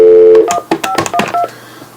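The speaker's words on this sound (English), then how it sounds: "So we just dialed the number." Telephone keypad tones while dialing a hotline number: a long steady tone followed by a quick, uneven run of about eight short, loud beeps, close and alone.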